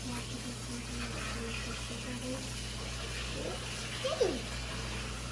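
Water filling a 75-gallon aquarium tank for African cichlids, a soft continuous rushing hiss that stays faint and even, with a brief murmur of voice near the end.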